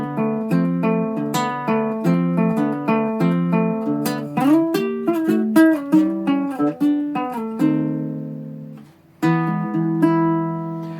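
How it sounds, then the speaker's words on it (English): A baritone ukulele plays an instrumental Spanish-style piece with steady plucked notes and chords running continuously and clearly, close and alone with no voices. "This one is called a baritone ukulele."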